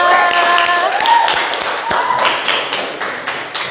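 A class of students in a school lesson applauds, a loud, close patter of many clapping hands that tapers off over a few seconds, with some voices underneath.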